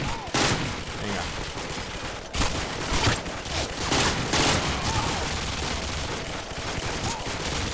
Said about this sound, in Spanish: Tiene que haber alguno porque por ahí están pegando tiros.